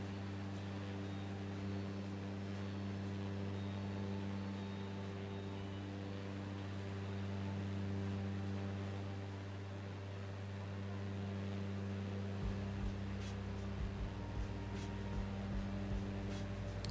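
An airplane engine drones steadily in a flight simulator game set over the Great Basin, a constant low hum with tonal layers, faint and unbroken, shifting slightly in pitch near the end.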